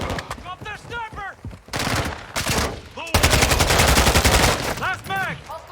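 Bursts of automatic gunfire in Warzone 2.0, with sustained rapid shooting in the middle stretch and a voice speaking at the start and end.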